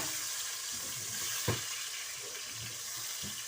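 Chopped onion fries in oil with a steady, soft sizzle, broken by a single sharp stirring knock and a few low scrapes from the pan.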